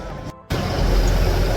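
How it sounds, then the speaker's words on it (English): A low, steady engine rumble from an idling airport bus carrying passengers to a plane, briefly cutting out before resuming at a constant level. "This is our bus here to the plane."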